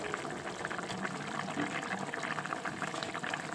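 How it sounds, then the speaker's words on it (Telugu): Spring onion curry bubbling in a pot, a steady dense simmer with fine crackling and bubbling texture, continuous and fairly faint. "చూడండి ఫ్రెండ్స్ కూర ఎలా ఉడుకుతుంది"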